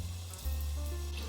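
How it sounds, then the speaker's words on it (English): Shrimp frying in hot oil give off a steady, close hiss of sizzling that runs unbroken from start to finish, with no voices over it. "Let that fry for a minute. Oh, look at that sizzle."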